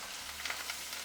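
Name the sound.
tempering with garlic and curry leaves frying in ghee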